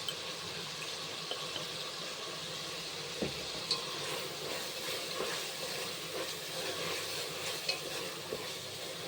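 Tomatoes cooking with salt and turmeric sputter with a low, steady sizzle while a spoon stirs them with soft, irregular scrapes and taps; the sound is faint and close, with no voices.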